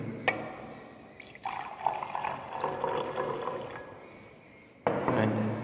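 Water poured into a measuring cylinder to take 100 ml for a school soil water-holding capacity lab activity, a soft liquid trickle and splash close by, with a person talking over it.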